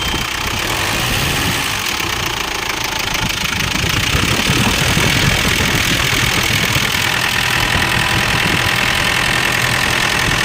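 A 2009 Ford Everest SUV engine, out of timing, idles loudly and unevenly, with a rough, knocking, stumbling rhythm running continuously.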